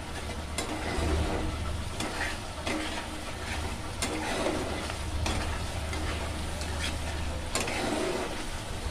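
Masala for pabda fish curry sizzles in a pan as it is sautéed, a continuous crackling fry with regular spatula strokes roughly every second, close and loud, with a low background hum.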